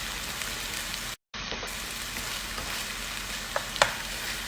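Tomato paste and garlic fry in a pan with a continuous bright sizzle and a few sharper pops and crackles near the end. It is close and alone, with a short gap of silence early on.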